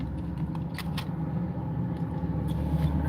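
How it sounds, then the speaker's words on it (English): Steady low road rumble heard inside a car with the windows up in traffic, a constant muffled drone with a few faint clicks and no talking. "Yeah, a lot of road noise."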